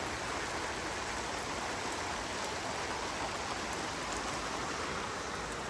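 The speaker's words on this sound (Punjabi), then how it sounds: "ਦੇਖੋ ਕਿੰਨਾ ਮੀਂਹ ਪੈ ਰਿਹਾ" Morning rain falls heavily and steadily, a dense, even hiss of downpour that continues unbroken and fairly loud, with no voices.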